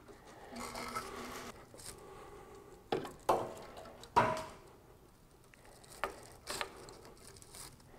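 A ratchet clamp is tightened around a bottle for circuit breaker testing: several quiet, sharp clicks come singly and in short pairs against faint room noise, close by with no talk.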